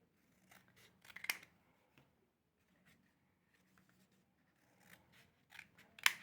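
Scissors snip through paper leaves for printmaking in a quiet room, a few soft separate cuts with gaps of near silence and a sharper crisp snip near the end.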